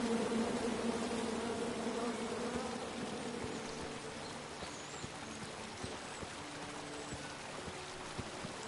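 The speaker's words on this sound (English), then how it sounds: "Come at me, bees!" Angry bees swarming from a tree in the video game King's Quest, a dense, droning buzz that is strongest at the start and then settles into a softer, steady hum with faint scattered clicks.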